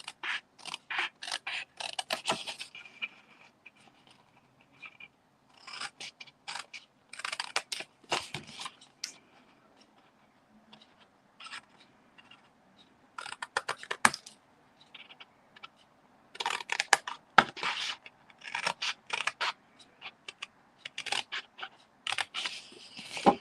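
Scissors cut paper card tabs for a box in a series of quiet, crisp snips that come in clusters with pauses between them, close up and without any talk.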